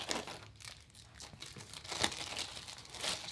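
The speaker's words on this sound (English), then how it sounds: "It has this little pull tab to peel off the plastic." Plastic wrap being peeled off an Apple AirPods Pro box by its pull tab, close and quiet crinkling and tearing with a few sharper crackles, no talk.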